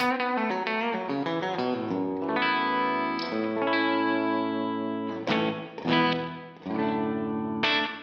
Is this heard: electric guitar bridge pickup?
yes